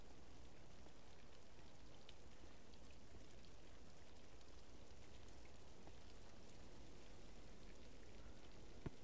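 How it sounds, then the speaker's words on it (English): Steady rain falls outside, a constant, even patter of drops with no other sounds. "it's raining outside, just like in the game."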